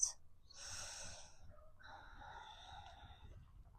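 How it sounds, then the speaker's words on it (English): Slow Ujjayi breaths drawn in and pushed out through the nose during a grounding yoga flow, a long breathy hiss followed by a softer, airy exhale, close and fairly quiet. "we tap into the Ujjayi breath, in through the nose and out through the nose"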